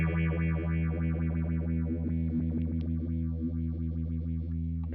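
A Flower Pedals Castilleja analog phaser sweeps a sustained distorted guitar tone, its notch swinging back and forth in a pendulum motion with a sweep inside the sweep. It plays steady and close with no voices.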